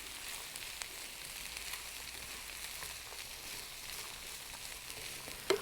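A corn dish sizzling gently in a pan while being stirred, a soft steady frying hiss with faint scrapes and a brief clatter near the end, close and without voices.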